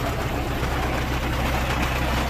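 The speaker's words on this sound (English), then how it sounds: "nice running tractor" A 1973 Case 870 tractor engine runs at a steady idle, a loud, close, continuous low rumble with an even chugging texture and no talking.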